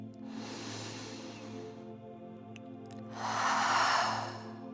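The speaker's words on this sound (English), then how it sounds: "take a deep breath in" A deep breath drawn in during a guided self-love meditation, a soft airy inhale that swells to its loudest near the end over a steady low background hum.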